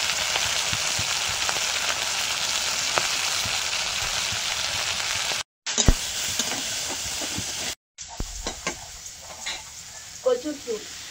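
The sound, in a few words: prawns frying with salt and turmeric in a pan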